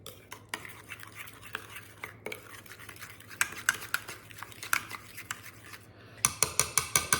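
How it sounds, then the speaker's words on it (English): A spoon stirs ketchup, brown sugar and mustard together in a bowl for a copycat Cracker Barrel meatloaf topping, giving close repeated scraping and clinking strokes that speed into a quick rhythmic run near the end. "all we're gonna do is stir these together, just like so."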